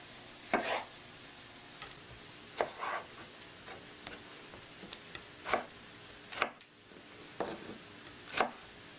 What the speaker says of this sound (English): let's chop the tomatoes